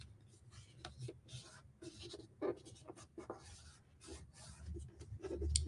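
Paper is folded and pressed into creases by hand for a craft treat holder, giving soft close rustles, rubbing and papery scrapes in irregular bursts, quiet overall.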